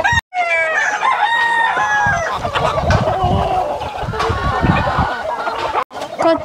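Chickens and chicks on a chicken farm in Hawaii fill the air with loud, overlapping clucks, squawks and drawn-out calls close by, almost continuously for several seconds.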